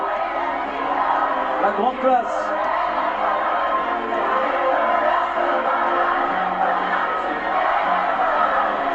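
A live audience at a televised singing-competition final cheers and applauds, a broad steady crowd roar with a presenter talking over it.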